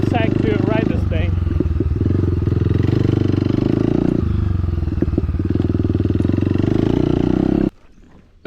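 Honda CRF 250F dirt bike engine on a test ride, a loud close buzzing drone rising and dropping with throttle changes, then cutting out abruptly near the end.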